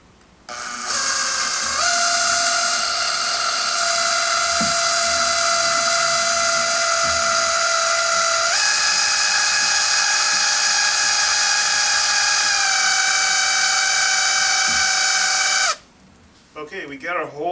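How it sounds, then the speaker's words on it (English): A drill whines steadily while boring a hole in a Porsche 996 Turbo coolant pipe, its high pitch holding loud and shifting slightly in tone for about fifteen seconds before stopping abruptly. "And I'll go ahead and finish drilling that"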